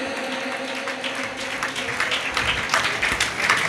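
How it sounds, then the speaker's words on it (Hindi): Steady applause fills the hall at an honour ceremony during a Jain shravak sanskar camp in Itarsi, a dense, continuous patter of many hands that swells slightly toward the end, with faint voices beneath. "करतल ध्वनि बजाते रहें।"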